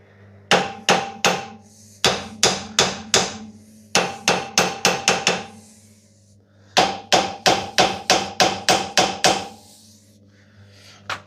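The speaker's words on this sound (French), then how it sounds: "je vais taper ici, parce que je change tout" Hammer blows strike car front axle parts during disassembly, sharp metallic impacts arriving in quick bursts of four to six strikes with short pauses between them. The blows ring loud and close.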